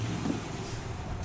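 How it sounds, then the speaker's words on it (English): Truck engine in Euro Truck Simulator 2 rumbles steadily and fairly close, a low continuous drone with a brief higher hiss near the end, no talking over it. "The sound of that engine is pretty dang sweet."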